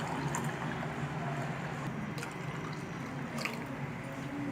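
Water poured from a tumbler into a spiced pani puri extract at home, a steady wash of splashing and trickling liquid that runs continuously for a few seconds, close and moderately loud.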